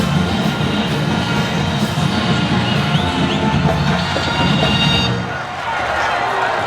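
A football stadium crowd in Bloomington at an Indiana versus SIU game, a loud sustained roar of cheering that swells and then dips near the end, with a commentator's voice running over it.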